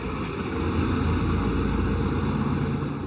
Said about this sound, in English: They crank those engines up. I love to hear the sound of it.